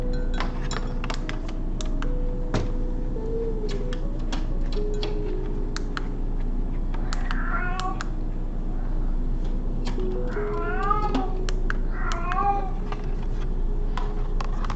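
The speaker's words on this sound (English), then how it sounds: "And there goes the cat." A house cat named Leo meows a few times, short rising calls around the middle and later, over steady keyboard-like tapping and clicks in a room.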